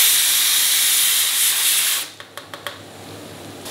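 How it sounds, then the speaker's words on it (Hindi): Sambar vegetables boiling in a pot give off a loud, steady steam hiss that drops away after about two seconds, leaving a quieter hiss broken by a few sharp clicks or taps. "यहाँ सांभर की सब्जियाँ बॉईल हो रही है"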